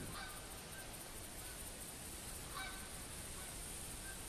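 Geese honk faintly in the distance across the Hirschfelden landscape of the hunting game theHunter Classic. The brief, sparse calls sit over a constant low ambient hiss.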